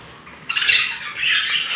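Budgerigars kept in breeding cages let out a harsh, bright squawk that starts abruptly, dips briefly, then swells again, close and loud with no talk.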